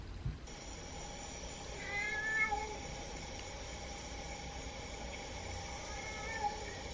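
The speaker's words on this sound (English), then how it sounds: "it's definitely this cat that was meowing" A faint, distant cat meow picked up by a security camera rises over a steady hum of background noise, followed later by another soft cry.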